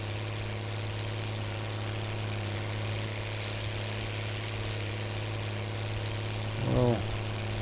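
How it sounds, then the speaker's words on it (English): A tractor engine idles steadily in Farming Simulator 19 on a hazy early morning farm, a constant low drone with a brief rising rev near the end. "It does sound lovely, this tractor."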